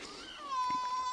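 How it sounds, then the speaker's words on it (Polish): A baby cries after waking, heard near a strawbale house under construction. The cry is a single thin, wavering wail that swells and carries at moderate loudness over quiet background, with no talk. "Dziecko nam się obudziło, chyba niezadowolone z przebiegu budowy."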